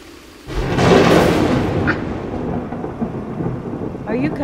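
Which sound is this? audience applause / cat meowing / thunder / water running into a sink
thunder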